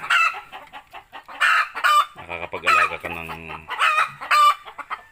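Free-ranging native chickens kept in a rural province: hens cluck and a rooster crows loudly nearby, with repeated calls in bursts while a person speaks briefly over them.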